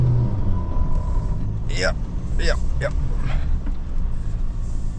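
A JAC T9 pickup on highway terrain tyres revs and pulls hard under steady rumble, with wheel spin on loose ground; a voice speaks briefly over it.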